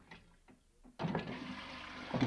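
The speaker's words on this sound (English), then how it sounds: "so you can adjust the amount of flush, and it's been working since the house was built 130 years ago" An old Victorian toilet with an ivory handle and adjustable flush in a 130-year-old country house flushes, a few quiet clunks giving way to a sudden rushing gush of water that swells toward the end.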